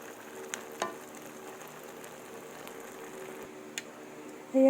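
Pancit canton being stirred in a pan, a faint continuous sizzle with a few light clicks of the utensil, and a louder clatter at the end.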